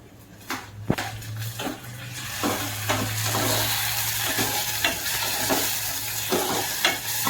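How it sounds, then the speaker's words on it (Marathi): Onion and tomato fry in a pan for a Konkani sukat (dried fish) curry, giving a steady close sizzle with scattered stirring scrapes and clinks, and no one speaks. "कांदा व्यवस्थित फ्राय झालाय टोमॅटो टाकून घेऊन"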